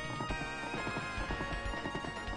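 Horse hooves in the Knights of the Round video game: rapid, steady clip-clop of galloping hooves under continuous music, with no clear neigh.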